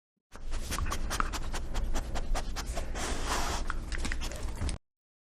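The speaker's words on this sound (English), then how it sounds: "The dog sniffs around in the grass." Dog sniffing around in grass, a steady run of close, rapid snuffling breaths and snorts lasting several seconds with no talk.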